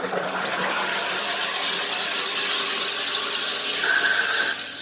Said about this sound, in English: When you hear that noise, psh, you'll let up on the lever